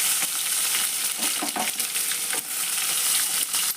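Chillies, onions and tomato frying in hot oil hiss and sizzle steadily up close, with scattered crackles and stirring scrapes throughout.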